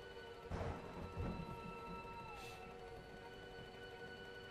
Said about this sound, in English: Nice stormy wet day.